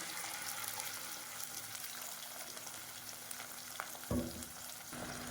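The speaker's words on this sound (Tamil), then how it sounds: "இப்போ இதில் இந்த அரிசி வச்சுருக்க பேஸ்ட் வந்து ஊற்றிக்கிறேன்" Rice paste poured into onions frying in a pan for idli sambar gives a steady, soft sizzle, with a brief louder splash and bubbling near the end.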